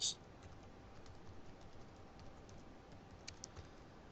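Typing on a computer keyboard produces quiet, sparse key clicks over a soft background hiss, with a louder click at the start and a few sharper taps near the end.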